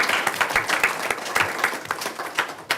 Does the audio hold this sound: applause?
yes